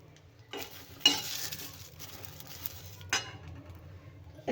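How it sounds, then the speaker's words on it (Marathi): Green chilies roast in a pan, giving a soft sizzle broken by bursts of stirring and scraping with a utensil against metal, close up, with no talking. "हिरव्या मिरच्या पण छान भाजून घेऊया"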